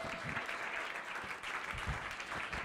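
Congregation applauding during a church worship service, a steady broadband wash of many hands clapping together, moderately distant and fairly quiet, continuous throughout with no voices standing out.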